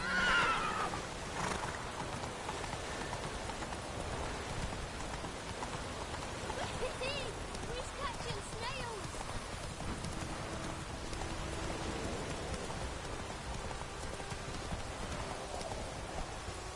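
Horse galloping through rain in the Witcher 3 video game, steady patter of rain over rhythmic hoofbeats, with a whinny near the start.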